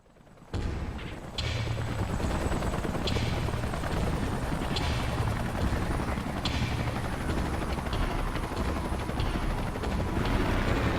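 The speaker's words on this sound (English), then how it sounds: "Let's call in the salvage choppers and get it out of here." Helicopter rotors of salvage choppers in Xenoblade Chronicles X drone steadily and loudly throughout, joined by sharp booming bursts and gunfire-like cracks in a busy, game-style battle soundscape.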